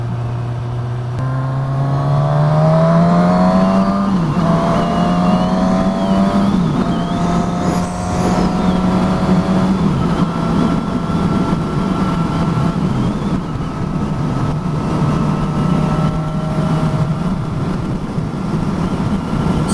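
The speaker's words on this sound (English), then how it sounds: "at these motorway speeds, then yes, there's wind as you'd expect on a naked bike" A 2019 Suzuki Katana naked motorcycle cruising at motorway speed, its steady engine drone rising in pitch as it accelerates, then holding level under a constant roar of wind buffeting, loud and close throughout.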